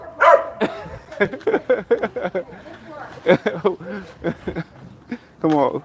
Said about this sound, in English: I thought you wasn't gonna bark today.